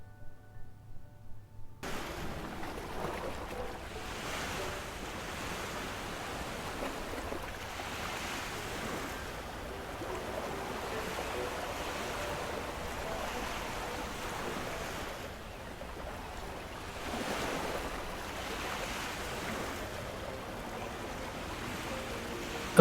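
Ocean surf rolls onto a beach in a video game, with a continuous soft wash of waves swelling and receding at a distance under a light wind, and brief music notes at the very start.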